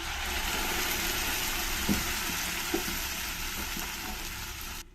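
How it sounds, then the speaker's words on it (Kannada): Onions browned in a pan with freshly ground masala added for a ridge gourd dal, a dense, loud, continuous sizzle with a couple of faint stirring knocks. "ಈರುಳ್ಳಿ ಎಲ್ಲ ಕೆಂಪಗೆ ಫ್ರೈ ಆಗಿದೆ ಈಗ ಇದಕ್ಕೆ ನಾವು ರುಬ್ಕೊಂಡಿರೋಂಥ ಮಸಾಲೆ ಸೇರಿಸ್ತಾ ಇದ್ದೀನಿ"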